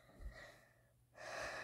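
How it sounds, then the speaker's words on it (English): Heavy, frightened breathing close to the microphone, a few quick gasping inhales and exhales, quiet and alone. "I'm hard breathing because I'm so scared."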